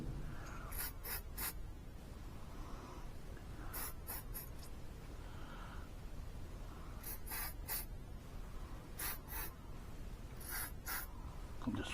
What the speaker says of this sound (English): So, spraying down these little parts.